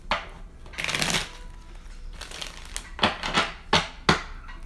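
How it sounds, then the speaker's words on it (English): A deck of tarot cards is shuffled by hand in several quick, crisp riffling bursts with short pauses between them, close and clear, with no voice over them. "One more shuffle, and then I'm going to cut your deck"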